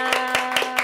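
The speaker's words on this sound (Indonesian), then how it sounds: "Tepuk tangan semuanya." Four quick hand claps at a steady pace, close and clear, over a faint background hum in a podcast studio.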